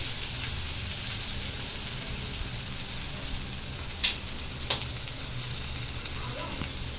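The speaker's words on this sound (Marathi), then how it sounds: "आपण हे जे त्याला होल पाडलेत बोटांनी, त्याच्यातून पण तेल सोडायचं" A sprouted green mung thalipeeth frying in oil on a pan, with a dense, steady sizzle throughout and a couple of brief sharper crackles near the middle, fairly loud and close, with no talking.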